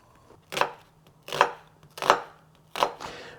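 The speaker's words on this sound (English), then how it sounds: "we go cut the onion for the sauteing" A knife chops through an onion for a barley soup, four distinct crisp cuts spaced roughly evenly apart, close and clear with quiet pauses between strokes and no talking.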